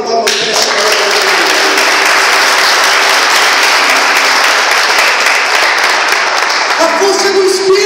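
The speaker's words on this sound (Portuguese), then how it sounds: "a dar uma salva de palmas para essa igreja" A church congregation bursts into loud, sustained applause that fills the room, with cheering voices mixed in, and the clapping thins out near the end.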